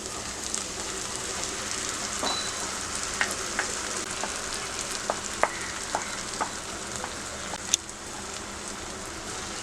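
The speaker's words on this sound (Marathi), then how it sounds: "परतून घेऊया चांगलं" A chickpea and curd mixture with garlic paste, coriander and gram flour fries in a pan, giving a steady low sizzle with scattered soft clicks and stirring scrapes, no voices.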